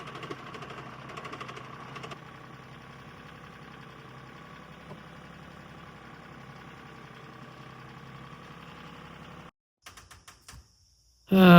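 A tractor engine idles and pulls a line inside a garage during a 1970 Chevelle axle swap, a steady mechanical chug for about nine seconds, then cutting off into quiet with a few brief knocks and a loud burst at the end.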